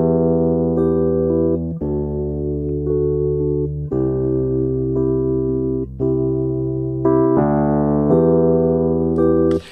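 Warm, clean Stage 73 electric piano chords played in a slow sustained progression without effects, round and bell-like, close and dry with no voices.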